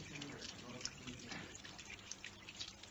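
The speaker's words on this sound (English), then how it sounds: "Rinse hands thoroughly under running water to remove all traces of soap." Hands are rinsed under a running tap during a clinical handwashing procedure, a faint steady stream of water with light splashing and drips, with a voice talking quietly over it.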